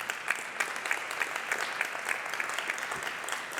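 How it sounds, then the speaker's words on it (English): Audience applause after a talk at a 5G consumer entertainment demo day, a steady patter of many hands at moderate distance, fairly soft and even throughout. "So face-to-face applause, virtual applause for sure as well."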